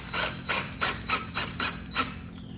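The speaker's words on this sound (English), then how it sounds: "Now I'm going around and putting some screws in just to hold it in." A drill on a light torque setting drives a screw into a patio door frame, giving a quiet, regular ratcheting clatter of about eight evenly spaced clicks.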